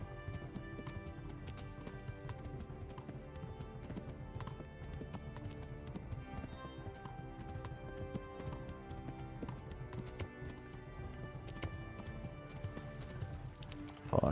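A horse gallops cross-country in Kingdom Come: Deliverance, its rapid, continuous hoofbeats drumming evenly and close for the whole stretch, over a layered game soundscape with a louder burst at the very end.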